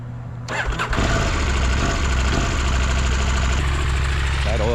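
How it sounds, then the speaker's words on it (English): A KTM 890 R motorcycle engine fires up and settles into a steady, loud idle right up close, its running note constant and unbroken after the start. "Bike's back together. It's running."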